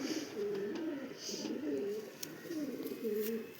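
Several domestic pigeons coo in a steady, overlapping rhythm nearby, the racing birds' low throaty calls repeating in rising and falling bursts with no talk.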